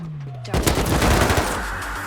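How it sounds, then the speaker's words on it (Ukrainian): Rapid gunfire from the survival video game Rust, erupting abruptly after a quiet start and continuing as dense, loud bursts of shots for the rest of the moment. "Перші постріли і в темряві спалахують спалахи від дульного полум'я."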